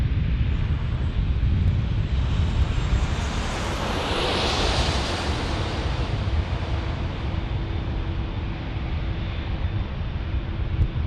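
A WestJet airliner at San Diego airport roars loudly and steadily, a thick engine rumble with a rising hiss that peaks midway as the jet passes close, then slowly fades, with no voices.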